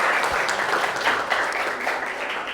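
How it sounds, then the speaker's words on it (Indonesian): Steady applause from a crowd, a dense wash of clapping that holds at an even level throughout without pauses. "Oke, tepuk tangan buat kita semua."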